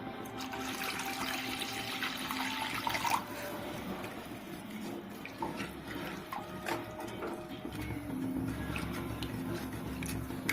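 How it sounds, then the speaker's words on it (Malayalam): Water from a glass is poured into a pan of bitter gourd theeyal curry, a steady splashing gush running for several seconds nearby over faint background noise. "നമുക്ക് 1 ഗ്ലാസ് വെള്ളം കൂടെ ഒഴിച്ചു കൊടുക്കാം."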